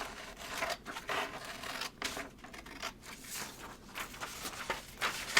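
Scissors cut out a paper cover for a Valentine craft project in a series of quiet, crisp snips and rustles, close and soft, with short pauses between cuts.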